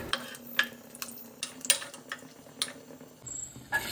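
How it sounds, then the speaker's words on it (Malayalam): Cashew nuts roasting in ghee in a pan for carrot semiya payasam, with a soft continuous sizzle under scattered sharp clinks and scrapes of a spoon stirring against the metal pan, close and fairly quiet. "ഈ കാഷ്നട്ട് നന്നായി ഒന്ന് വറുത്തെടുക്കണം"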